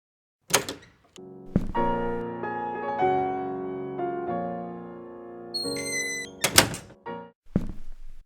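A door in an animated short film, opening with sharp thunks and knocks that bracket a sustained creaking, tonal groan, with a few sharp impacts near the end, with no talking.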